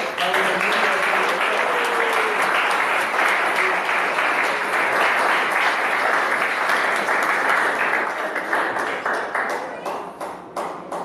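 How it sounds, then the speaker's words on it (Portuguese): A church congregation bursts into long, loud, sustained applause during an evening service, the dense clapping holding steady for about ten seconds before thinning slightly at the end, with brief voices at the start. "o meu Jesus merece a melhor salva de palmas nesta noite"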